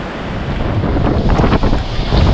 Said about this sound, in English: This is where I get hit by that 80 mile an hour gust.